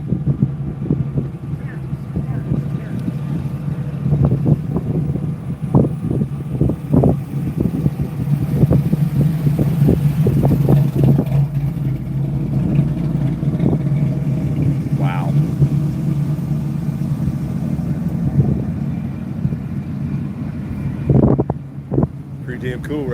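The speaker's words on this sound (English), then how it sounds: "67 Camaro." A 1967 Chevrolet Camaro rolls past at the Daytona Turkey Run car show, its low engine rumble steady throughout, with wind buffeting the microphone and voices nearby.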